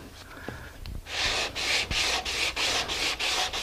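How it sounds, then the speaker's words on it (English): Rhythmic hand sanding with a custom sanding block, close up: steady back-and-forth rasping strokes of abrasive on wood, about two per second, after a few quiet handling knocks. "I now have a perfect sanding block that fits"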